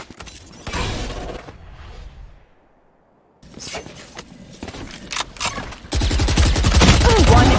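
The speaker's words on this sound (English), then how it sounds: "Placing swarm grenade." Burst of a swarm grenade in the tactical shooter Valorant during a pro match, a loud clustered volley of sharp pops and crackles that hits in waves, with quieter game sounds and a pause between the bursts.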